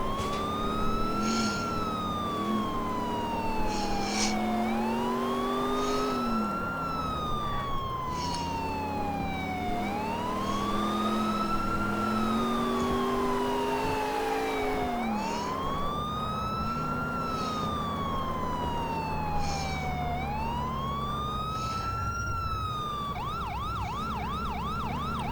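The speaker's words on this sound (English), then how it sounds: "And then it'll turn on the lights and siren." Police car siren from the LCPDFR police game wails continuously and loudly, rising and falling in long sweeps, then switches near the end to a rapid yelping alternate tone.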